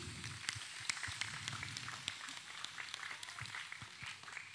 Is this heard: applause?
yes